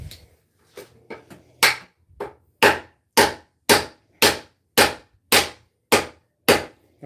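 Hammer taps on an Irwin folding chisel, a dozen sharp, evenly spaced strikes that start as a few lighter irregular knocks and settle into a steady, loud rhythm, close and alone without talk.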